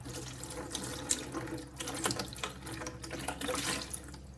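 Water runs steadily into a plastic tea jug from a tap, a faint, close splashing stream with small fluctuations and no voices.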